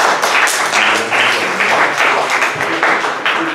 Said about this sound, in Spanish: Demos un aplauso al doctor, por favor.